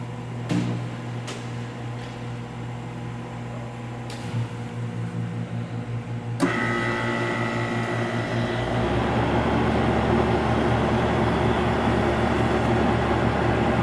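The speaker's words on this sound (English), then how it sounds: "First, we're going to turn on the chiller." Several clicks and a low hum give way to a sudden loud mechanical roar as a Polycold 2XCL cryogenic chiller starts, then a steady whirring drone continues.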